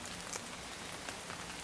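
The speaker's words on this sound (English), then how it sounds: "the rain's coming down pretty good right now." Rain falls steadily outdoors as a dense, even hiss of countless drops pattering on surfaces, soft and continuous with no voices.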